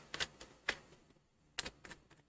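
A deck of tarot cards is shuffled in quiet bursts, giving soft crisp clicks and short snapping riffles spaced irregularly, close and faint, with no talking.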